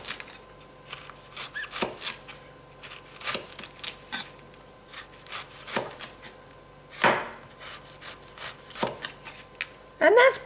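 A knife chops a fennel bulb on a cutting board in irregular, spaced thuds with soft rubbing and scraping between strikes, close and moderately loud.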